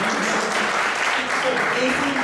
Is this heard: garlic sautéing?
no